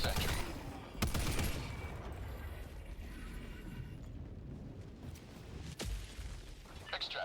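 Sentry gun firing bursts in Helldivers 2 during an Illuminate invasion, with dense rapid shots and a few sharp louder blasts over a busy battle background, no talk.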